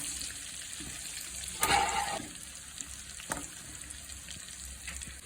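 Chicken skin pieces crackle as they fry crisp and brown in oil, a steady hiss with one brief louder burst of clattering about a third of the way through, then settling back to a soft continuous sizzle with no talking.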